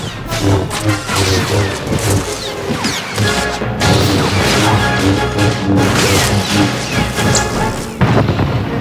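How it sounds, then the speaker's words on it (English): Video game cryo grenade explosion in Star Wars The Old Republic, heard as a loud, dense burst of crashing, booming combat effects that continues steadily over background game sound without a clear single blast. "From a distance, the trooper hits Iron Fist with a cryo grenade."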